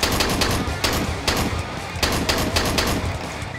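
A shotgun fires in Garry's Mod during a fight against Mechagodzilla, loud close blasts in quick bursts, several heavy booms crowding together over a rumbling, noisy background with no talking.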